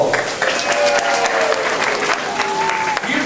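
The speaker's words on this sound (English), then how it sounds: "let's have a nice round of applause for Michael." A crowd breaks into a short burst of applause, loud and close, with whoops and cheering voices rising over the clapping throughout.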